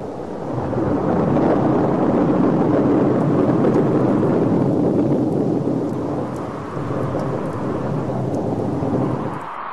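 A heavy thunderstorm with lightning rolls on as a loud, sustained thunder rumble with a broad roaring wash, holding strong for several seconds before easing, then ending abruptly.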